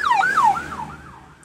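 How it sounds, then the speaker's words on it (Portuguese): An ambulance siren wails on a busy avenue, rising and falling loudly at first and then fading as it moves off. "vai ter algum som aqui em volta, de ambulância, de carros, que nós estamos em avenida"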